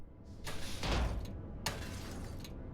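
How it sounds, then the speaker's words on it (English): Double doors closing in the video game Xenonauts 2, two sharp mechanical sliding thuds a second apart, the first heavier, over a low ambient hum. "Oh, that was the sound of doors closing."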